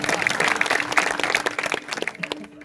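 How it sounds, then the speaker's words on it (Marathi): A kirtan audience at a women's kirtan festival in Nashik claps in a somewhat uneven, scattered patter, fairly close and moderately loud, thinning out toward the end. "तुम्ही टाळ्या वाजवा पण जरा मन मोकळ्याने वाजवा."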